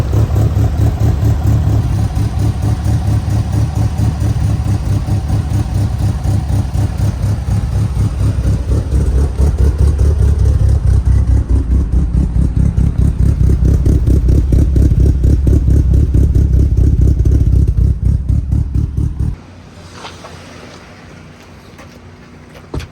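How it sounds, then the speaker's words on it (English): A Mitsubishi Lancer Evolution VIII that had been sitting abandoned idles after a cold start, its engine a steady, loud, slightly rough churning drone lasting about 19 seconds. It then cuts off abruptly to near silence. "I cold started this thing. It's just idling out here."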